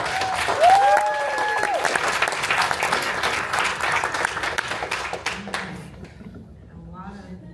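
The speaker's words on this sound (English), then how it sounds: "Round of applause." A startup event crowd bursts into loud, dense applause with a few whoops and voices mixed in, then the clapping thins and fades out near the end.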